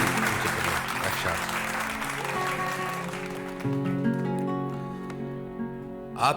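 Concert audience applause at a ghazal performance, a moderate wash of clapping mixed with sustained instrumental tones that gradually thins out and fades over about six seconds.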